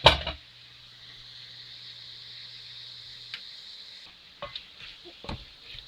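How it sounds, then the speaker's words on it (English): Shredded cabbage sautéing in a pan for Ghanaian fried fish pies gives a steady, soft sizzle, broken by a few brief clicks and scrapes of stirring near the end. "So now we are going to give it a stir."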